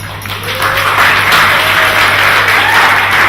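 A dinner audience at a Greens political event claps in a steady, loud burst that swells early and holds evenly throughout, with no voices over it.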